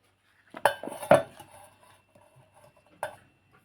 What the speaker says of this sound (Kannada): ಇದನ್ನೆಲ್ಲ ಒಂದು ಮಿಕ್ಸಿ ಜಾರಿಗೆ ಹಾಕ್ಕೊಂಡು ಮಿಕ್ಸಿ ಹಾಕ್ಕೊತೀನಿ